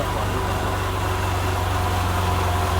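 A car engine on a dyno runs steady and loud at high revs around 5,000 rpm, a continuous droning hum with strong low vibration and no voices.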